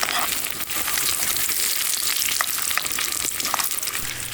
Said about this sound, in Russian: Несколько перепелиных яиц, бекон, и вот уже сковорода скворчит